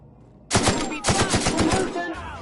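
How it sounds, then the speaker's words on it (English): Space shooter game gunfire kicks in abruptly after a quiet start, a fast, loud rattle of repeated shots that breaks off briefly and then resumes. "We have a lot of shooting to do"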